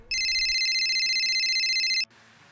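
A telephone rings with a steady electronic trill, loud and close, lasting about two seconds before cutting off abruptly into quiet.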